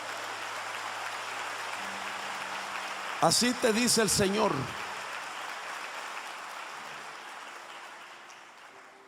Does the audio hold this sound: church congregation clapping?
yes